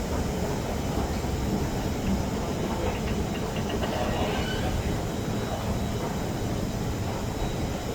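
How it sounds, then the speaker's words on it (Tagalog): A train at a Singapore station on the line toward Marina Bay gives a steady, loud rumble of rolling wheels and machinery that holds for the whole stretch, with no voices over it. "Maghihintay ako ng train na puntang Marina Bay siya."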